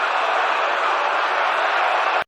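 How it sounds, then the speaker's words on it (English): Baseball stadium crowd roaring after a game-winning home run by the Cubs, a dense, loud and continuous cheer from thousands of fans that holds steady for about two seconds before cutting off abruptly. "Listen to this crowd."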